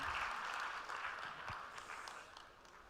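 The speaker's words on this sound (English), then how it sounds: "huge round of applause for our Honorable Minister" Audience applause at a Youth 20 Inception Meeting for the Honorable Minister, a broad steady wash of many hands clapping that fades slightly toward the end, with no talk over it.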